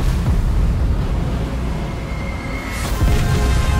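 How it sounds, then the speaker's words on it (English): Battleship guns fire a salvo in World of Warships as the German battleship Bismarck engages the battlecruiser Hood, heard as a deep, continuous rumbling roar with a sharper burst of booms near the end and no voices. "The German battleship fired a fifth salvo at the English battlecruiser."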